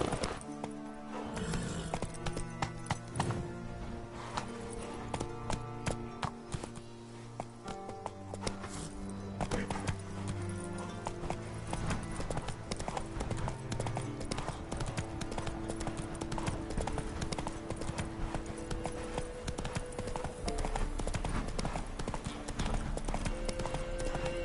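The horse Roach gallops in The Witcher 3, a rapid, steady clip-clop of hooves running throughout, with occasional neighs over game music and ambience.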